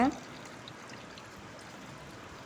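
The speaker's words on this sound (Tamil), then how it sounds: "இது முங்குற அளவுக்கு தண்ணி ஊற்றுனா போதுங்க" Water poured from a vessel over dried fish to soak it for a Tamil curry with brinjal and drumstick, a steady wash of splashing and trickling that runs the whole time after a brief louder start.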